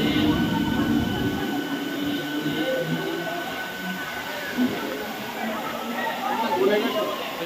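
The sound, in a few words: Howrah to Midnapore local train running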